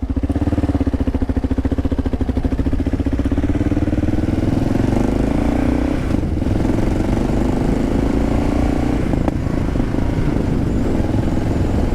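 A heavy motorcycle engine revs close up, a loud throbbing roar that climbs and holds steady with mechanical clatter, dipping briefly a couple of times while riding on a light gravel surface.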